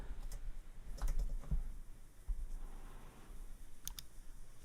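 Light, scattered keystrokes on a computer keyboard as a description is entered into accounting software, soft clicks over a quiet room hum.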